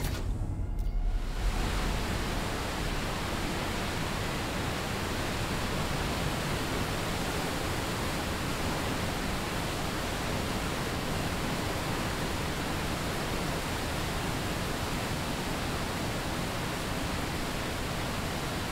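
Loud, dense rushing wash of sulfuric acid flushed toward batteries in the video game Firmament, starting abruptly after a brief quiet moment and continuing as a steady roaring noise, with no talk.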